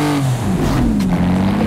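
V12 biturbo Mercedes-AMG G-Wagon engine in a driving video game, revving loudly with a rising and falling pitch, close and continuous without talk.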